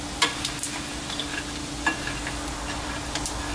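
Pork fat rendering in hot oil, a continuous fine sizzle with scattered sharp pops and spatters, a steady low hum underneath and no talking.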